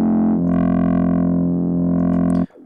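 A single sustained synth bass note from Ableton Live 10 Max for Live with a distortion effect, a buzzy, harmonically rich tone, held steadily before cutting off abruptly.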